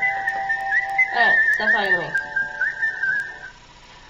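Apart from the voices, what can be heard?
phone ringtone whistling the Kill Bill tune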